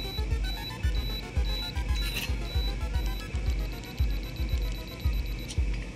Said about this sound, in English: Timer's going off, taking away the light.